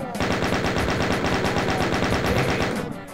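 Chain gun enemies firing in Call of Duty 2 Zombies, a dense, continuous rapid-fire burst of loud automatic gunfire running steadily for about three seconds and cutting off at the end.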